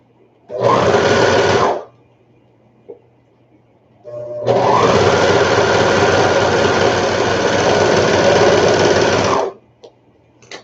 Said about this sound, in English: So I can only sew so far before I have to move the fabric.